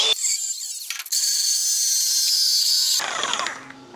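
A power cutting tool slices through the exhaust pipe of an Abarth 500, a loud, steady high-pitched shriek that starts abruptly, holds for a few seconds, then winds down with rattling squeal and no talk.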